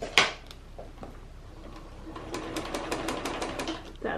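A sewing machine set up with a DIY slide-on table for quilting ruler work runs in short, soft bursts of rapid ticking as the needle moves up and down, a sharp click at the start, moderately close.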